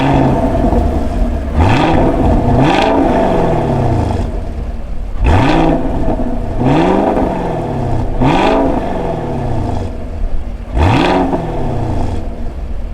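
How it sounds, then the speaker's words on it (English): A 2019 Chevrolet Camaro SS V8 with quad stainless steel exhaust outlets revs repeatedly, each loud, rising blip falling back into a deep rumbling burble at idle, close and alone. "the quad stainless steel exhaust outlets, pumping out that wonderful V8 burble"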